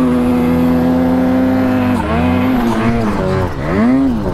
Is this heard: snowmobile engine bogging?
yes